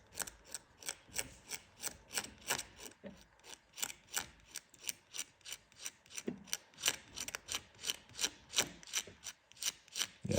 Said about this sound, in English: take this razor blade, kind of scratch across the top of this JB weld and try to get it to flatten out